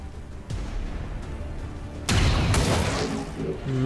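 A heavy gunshot in the video game XCOM 2 booms loudly partway through, preceded by a softer pop and followed by a ringing, echoing tail over faint background sound.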